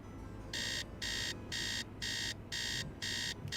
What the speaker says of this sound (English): I hate the universal alarm noise.